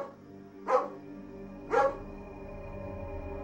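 A Bordeaux family's dog gives three sharp, separate barks spaced about a second apart, fairly close and loud against a quiet room tone.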